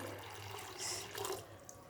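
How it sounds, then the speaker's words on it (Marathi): Quiet running water pours in a soft stream into a bowl of washed sago, rising briefly in the middle, close by and fairly faint. "आता यामध्ये पाणी घालायचं आहे"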